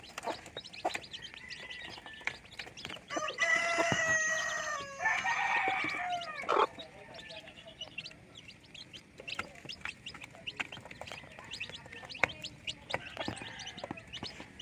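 A Rhode Island Red rooster crows loudly and nearby, with a long drawn-out call in two parts. Softer clucks and chirps from other birds continue around it, and no one speaks.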